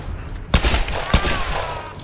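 Gunfire in the Tomb Raider video game: two sharp, loud shots about half a second apart over a low rumbling game background.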